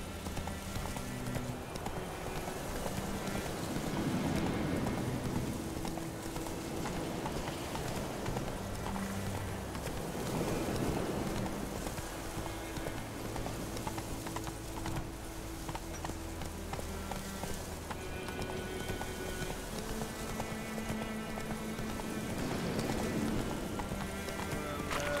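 Roach, a horse in The Witcher 3, clip-clops along at a slow steady walk, hooves close and continuous over game music, with an occasional whinny.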